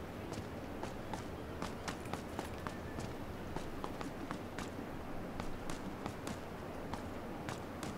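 Footsteps inside a house in the video game PUBG: a steady run of light, sharp taps spaced through the clip, fairly faint against a constant background wash, with no talk.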